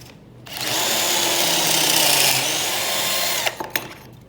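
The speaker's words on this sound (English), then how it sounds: "now you put the drill bit in your drill, tighten it down" A power drill whirring at steady high speed for about three seconds, close and loud, then stopping with a few brief clicks.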